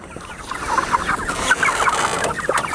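Chickens in a mobile farm pen cluck repeatedly at close range, several birds making short overlapping calls over a steady outdoor background, with no talk.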